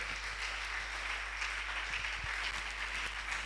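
A church congregation at a Sunday service in Matadi applauds to acclaim the Lord, with steady, dense clapping sustained throughout at moderate distance and no talk over it.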